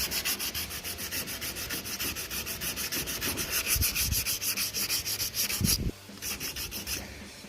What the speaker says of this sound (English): I think I'm going to start wet sanding the bedside